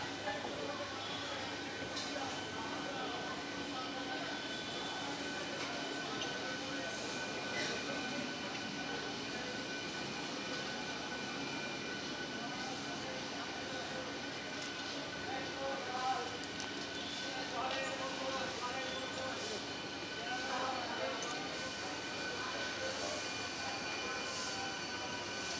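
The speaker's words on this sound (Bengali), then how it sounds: "সামনে দেখতে পাচ্ছেন 1 নম্বর প্ল্যাটফর্মে হাওড়াগামী ট্রেন তারকেশ্বর স্টেশনে ঢুকছে" A Howrah-bound local train pulls onto platform 1 at Tarakeswar station with a long, steady rumble of rolling wheels and a faint squeal of wheels on rails. The sound stays moderately distant against busy station noise throughout.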